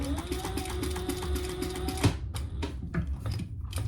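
A sewing machine runs in a quick, steady mechanical stitching rhythm for about two seconds while going back over the corners of a boxy crossbody bag, then stops, leaving a few faint clicks and handling sounds.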